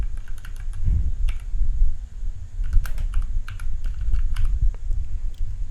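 Someone types on a computer keyboard, a close run of quick, uneven key clicks and taps over a low steady background hum.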